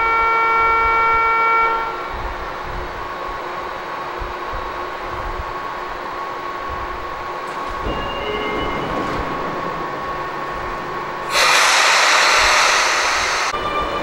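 A Sotetsu Line train departing from a station: a steady low rail rumble with sustained tonal chimes over it, then a brief loud hissing burst near the end, with no voices.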